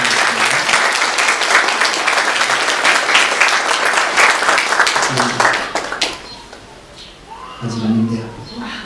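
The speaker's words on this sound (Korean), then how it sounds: "다시 한번 여러분들 축복을 하면서 박수를 보내주시겠습니다." A church congregation applauds at a Sunday service after an infant baptism prayer, dense clapping for about six seconds that fades out as a voice speaks at the end.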